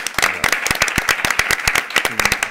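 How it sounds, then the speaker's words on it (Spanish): Live studio audience at a film-analysis talk show breaks into applause, a dense, steady run of many hands clapping close by for a couple of seconds with no voices over it. "muchísimo un aplauso para el público"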